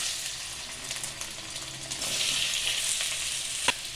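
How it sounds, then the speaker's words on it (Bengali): Potatoes frying in a pan for a dried-fish dish give a continuous close hiss and sizzle that swells slightly midway, with one sharp clink near the end and no voices. "আলুগুলো এখন একটুখানি ভাজা করে নেব।"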